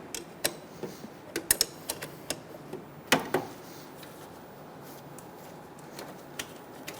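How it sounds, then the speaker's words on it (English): A 17mm wrench breaking a side bolt free on a 2003-2007 Honda Accord, heard as a scattered series of sharp ratcheting clicks and ticks, strongest around the middle, up close and without talk. "we're going to break the side bolt free using a 17mm"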